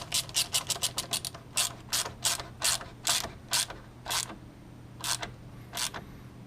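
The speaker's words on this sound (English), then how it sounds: "Go ahead and tighten up this hose here." Ratchet wrench tightening a hose clamp on a 1987 Jeep Comanche engine, a close, quiet run of sharp clicking strokes, rapid at first and then slowing into spaced single clicks.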